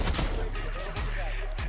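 Rapid gunfire from a CR-56 AMAX assault rifle in Black Ops 6, a dense fusillade of shots rattling continuously through the short burst, loud and close with a voice talking over it.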